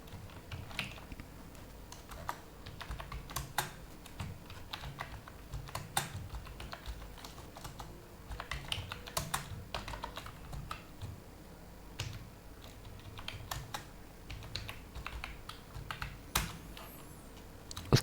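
Steady typing on a computer keyboard while writing lines for a template in LibreOffice, with soft, irregular key clicks going on for the whole stretch, close but quiet, and no talking over it.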